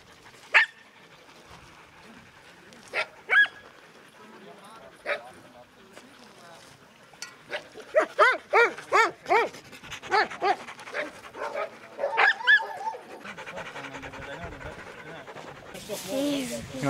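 Sled dog puppies at a vaccination clinic pant, yip and bark in a busy cluster of sharp, close bursts that grow denser midway, with people talking around them.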